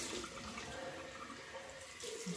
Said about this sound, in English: Wow, cold water rinse.